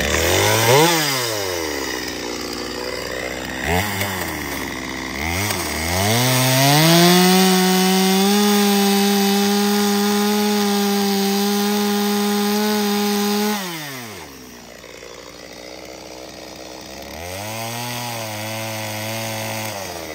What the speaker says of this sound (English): how hard it is to start the chainsaw sometimes